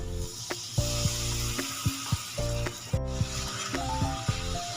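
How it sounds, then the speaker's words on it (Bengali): Ground spices (salt, cumin, turmeric, coriander and chilli powder) sautéing with a splash of water in a pan, a steady close sizzle broken by regular scrapes and taps of a stirring spoon, with no talking. "লবণ, জিরের গুঁড়ো, হলুদের গুঁড়ো, ধনে গুঁড়ো, লঙ্কার গুঁড়ো। একটু জল দিয়ে কষিয়ে নিই।"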